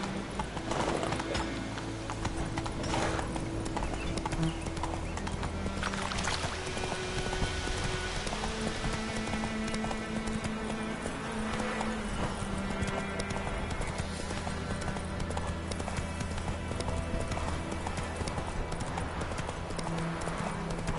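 Horse hooves clip-clop steadily at a riding pace in The Witcher 3 video game, with a whinny and faint game ambience behind the rhythmic steps.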